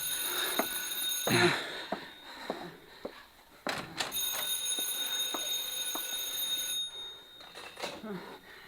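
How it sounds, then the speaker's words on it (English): A telephone rings with repeated bell trills in a 1955 radio suspense drama scene, each ring loud and close, separated by short pauses. "You better answer the phone."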